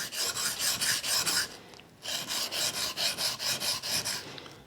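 A French pocket knife blade is stroked against a sharpening stone in steady repeated rasping passes, about a dozen close strokes in two runs separated by a brief pause, with no voices.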